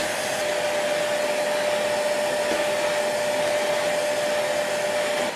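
An AGARO Rapid 1000 watt 10 litre wet and dry vacuum cleaner sucks up paper with a loud, steady, close roar and a constant motor whine throughout, with no talking.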